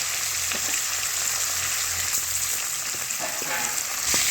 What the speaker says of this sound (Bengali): মাছগুলো দিয়ে দিচ্ছি ভাজার জন্য